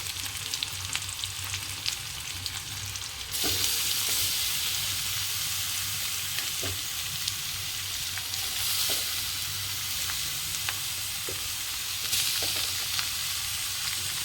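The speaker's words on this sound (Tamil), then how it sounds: "பீட்ரூட் போட்டு நல்லா வந்து வதக்கி வச்சுக்கலாம்" Beetroot sautés in a pan, giving a steady, moderately loud sizzle with occasional soft stirring clicks. No voices are heard.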